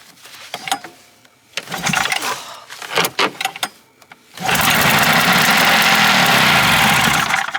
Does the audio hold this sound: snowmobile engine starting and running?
yes